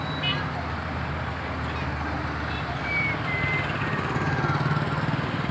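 Heavy road traffic of cars, auto-rickshaws and motorbikes makes a dense, steady rumble of engines and tyres close by, growing slightly louder toward the end, with faint murmuring voices in the mix.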